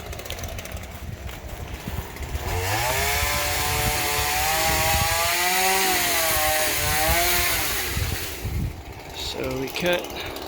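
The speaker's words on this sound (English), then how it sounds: "That's my brother on the chainsaw" A chainsaw revs and cuts through wood during yard clearing, its high whine rising and bending under load for several seconds, idling and sputtering before and after as someone talks nearby.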